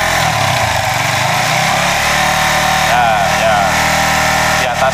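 A Suzuki GSX 150 fuel-injected motorcycle engine held at about 5000 rpm during a charging-system check, a loud, steady, buzzing drone close by that wavers slightly in pitch and dips briefly near the end.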